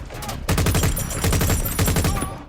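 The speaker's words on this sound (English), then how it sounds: "any hope is crushed when C.I.A officer Abayomi betrays his team and guns them down." Rapid gunfire rings out in a violent movie scene, a loud dense burst of shots lasting a couple of seconds.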